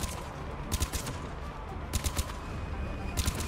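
Gunfire in the video game Mass Effect 3: repeated short bursts of rapid shots, roughly three clusters over a steady background hum, fairly loud and close with no talk over them.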